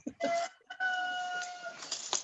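A rooster crowing, one long drawn-out cock-a-doodle-doo call with a brief cluck before it, clear and moderately close, heard alone over faint background noise.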